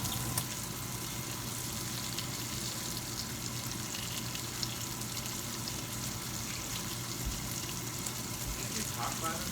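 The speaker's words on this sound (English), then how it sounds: "you want to dump out the grease so it's not popping in your face" Bacon fries in hot grease in a pan with a steady, dense sizzle and scattered pops, close and even throughout.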